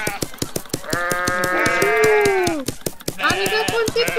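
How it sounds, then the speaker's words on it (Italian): Sheep in the WorldBox video game bleat several times in wavering, overlapping cries over a steady rhythmic ticking, loud and close, with no talking. "Possiamo metterci un po' di pecore."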